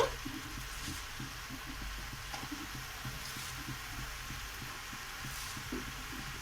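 Cabbage sizzling in a hot pan, a soft continuous frying hiss with light stirring scrapes and occasional faint knocks, fairly quiet and close.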